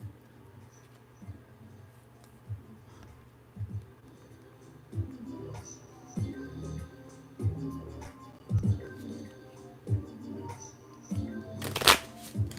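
Archangel Oracle cards are shuffled by hand in a series of soft, papery riffles and taps that build toward a sharper flurry near the end, with faint background voices under the handling.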